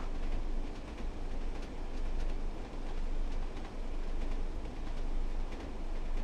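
A train in Train Sim World on the Northern Trans-Pennine line runs along the rails with a steady, dense rolling rumble and faint rhythmic clicks, constant throughout with no talking.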